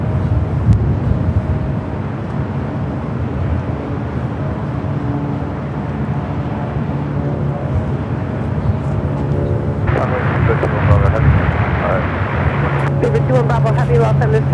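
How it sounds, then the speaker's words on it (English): A jet airliner arriving from Munich at Los Angeles airport, a continuous heavy engine roar and rumble heard from a distance, with a voice talking over it throughout and a brief rise in mechanical noise near the end. "Flight 452 equivalent from Munich will be arriving here at about 6 minutes here on the north side"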